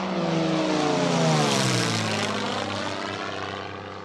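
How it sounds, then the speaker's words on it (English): A fast airplane flies overhead, its loud engine roar swelling and then fading as it passes, with the pitch sliding downward over about four seconds. No one speaks. "No, it's a plane. There are fast planes."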